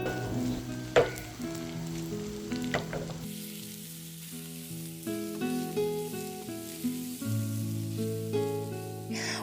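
Crab sticks fry in spicy garlic butter in a pan, a steady close sizzle with crackling bursts and occasional stirring clinks, and background music runs alongside.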